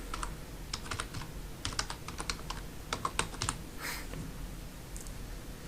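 Someone types a place name into a location field on a computer keyboard, producing close, quick clusters of crisp key clicks in short bursts over a faint room hiss, with no talking.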